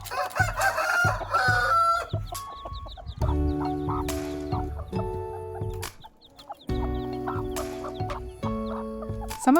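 A rooster crows loudly several times in sustained, harmonic calls on a farm in East Bali, with hens clucking close by in between.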